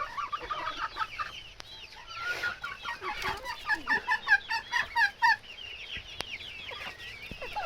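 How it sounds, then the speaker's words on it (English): Rhode Island Red hens give a run of loud, close clucks and rising squawky calls in a rapid rhythmic burst, with softer chicken murmurs and a little rustling around them. "the Rhode Island red hens"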